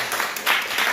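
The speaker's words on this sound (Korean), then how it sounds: "우리 박수 한번 해주세요." A church congregation at a Korean Sunday worship service claps in welcome, a brief, fairly close patter of hands that swells midway.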